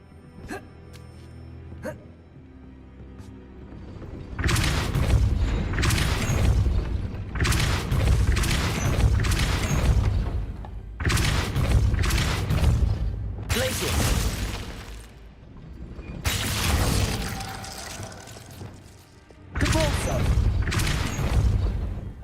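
Depulso spell cast repeatedly in a Harry Potter video game at Hogwarts, a series of loud whooshing blasts in bursts of a few seconds each, separated by short quieter gaps.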